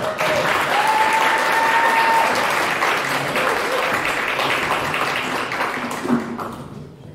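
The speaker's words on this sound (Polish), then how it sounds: "Brawa!" An audience applauds as a performer, Agnieszka Zgrzebska, is introduced on stage. Dense, loud clapping fills the room and holds for several seconds, then tapers off toward the end with a brief voice or whistle over it.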